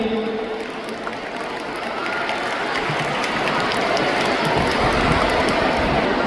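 An audience applauds with dense, sustained clapping that swells and stays loud throughout.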